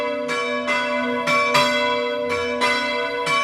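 Bells of the church of Santa Lucia in Piovega, Gemona del Friuli, peal to call the faithful to Holy Mass. Five or six loud, clear strikes come at an irregular rhythm over a continuous ringing hum, with no voices.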